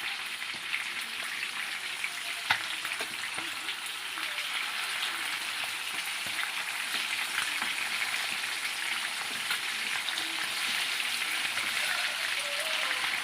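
Fish coated in masala fry on a non-stick tawa for a fish fry, giving a steady, close, continuous sizzle and crackle with a few faint clicks and no talk.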